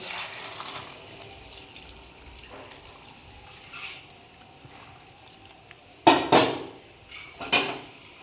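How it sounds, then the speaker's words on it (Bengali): Hot water poured into a pot of cooked-down duck meat curry, a steady watery wash with a few louder splashes and clatters near the end, no talking. "মাংসটা আমাদের কষানো হয়ে গেছে এবার দিয়ে দেবো গরম জল"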